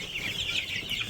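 Laying hens cluck softly and continuously in a coop, a close, steady murmur of fowl voices with no talking.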